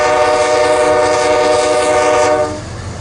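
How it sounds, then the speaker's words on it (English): A northbound crude oil freight train rolls past in Oakland, Nebraska, a loud, steady roar with a sustained horn blast that cuts off near the end as the rumble fades slightly. "This is a northbound crude train here in Oakland,"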